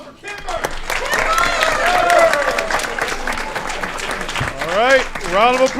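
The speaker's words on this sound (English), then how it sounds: "Another round of applause for Kimber." Steady applause from a city council meeting audience fills the room throughout, sustained clapping with crowd murmur and voices talking over it.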